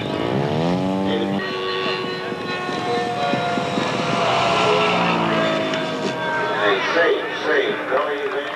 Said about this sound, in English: Taxiing out on the left. The Fairey Gannet, one of the most unusual aircraft here.